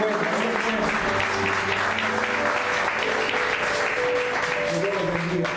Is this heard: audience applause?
yes